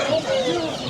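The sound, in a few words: Australorp chicks and turkeys at poultry market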